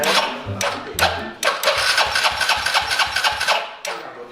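An engine is kick- or hand-started, sputtering through several sharp cranking bursts before it catches. It then runs in a rough, pulsing idle close by, with faint voices in the background.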